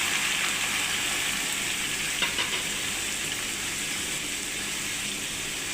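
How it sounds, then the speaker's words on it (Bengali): Beef tripe fries in a wok with a steady, loud broadband sizzle, a brief clatter near the middle, no voices present. "কিছুটা লালচে ভাব হওয়ার পর আমরা ভুঁড়িগুলোকে কড়াইতে ঢেলে দিলাম"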